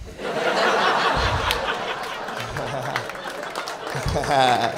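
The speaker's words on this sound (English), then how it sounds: "All right, clapping." Comedy club audience breaking into broad, sustained applause and laughter at the end of a stand-up set, a dense wash of clapping filling the whole stretch with a swell near the close.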